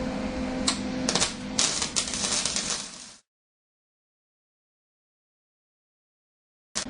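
Rapid light metallic tapping and clatter as metal pieces for a propane smokehouse trailer are tapped together, close and busy for about three seconds, then silence and a brief final burst.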